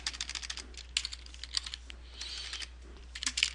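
Rapid typing on a computer keyboard while entering card payment details, with uneven bursts of close, crisp key clicks separated by short pauses and no talking.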